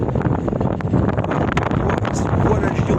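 Strong headwind of about 20 knots buffets a sailboat under way off the Spanish coast near Cabo San Antonio, a steady close rushing gust noise filling the whole stretch, with a voice talking over it.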